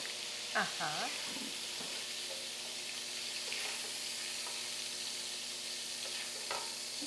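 Shrimp dusted with paprika frying in hot oil on a stovetop, a steady soft sizzle running throughout with a few brief clatters and stirring sounds near the start.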